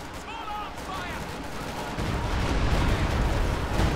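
Rumbling barrage from a Stuka rocket artillery unit in the World War II strategy game Company of Heroes 2, a dense continuous roar of launches and impacts that grows louder halfway through, with whistling rocket streaks early on.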